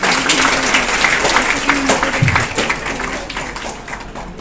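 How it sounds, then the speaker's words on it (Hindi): Audience applause at an entrepreneurship club meeting, a dense burst of many hands clapping close and loud for a few seconds before easing slightly, with faint voices underneath. "इसके लिए भी ताली बजा।"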